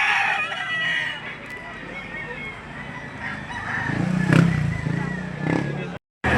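At a market, chickens crow and cluck in overlapping bursts while someone talks nearby, the calls swelling louder in the second half before a brief cutout.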